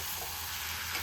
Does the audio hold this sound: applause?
no